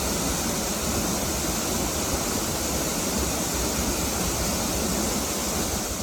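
Waterfall amid lush greenery, a dense, steady roar of falling water filling the scene without pause, loud and close with no voices.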